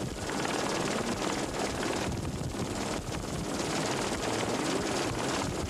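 A Eurosport helicopter roars steadily with dense rotor and turbine noise as it is chased into a stage finish of the 1997 Rally Tunisia in the Tunisian Sahara during rain, loud and continuous, with no voices.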